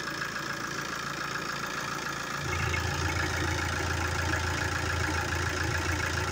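A double cabin pickup's engine idles close by, a steady mechanical drone whose low tone deepens and grows a little louder partway through, with no one speaking.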